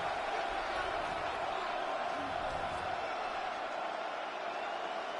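Dense, constant roar of a football stadium crowd during a Dolphins vs Chiefs game, a steady wash of noise with no breaks or peaks.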